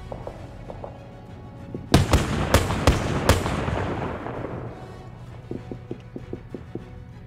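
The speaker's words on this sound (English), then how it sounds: "wait for that AA position to start firing off" Anti-aircraft gun position in a WWII armor-and-aircraft combat game opening fire: a burst of several sharp, loud booming reports in quick succession, followed by a long rumbling decay and faint distant thumps.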